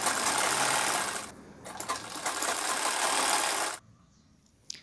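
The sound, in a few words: sewing machine stitching fabric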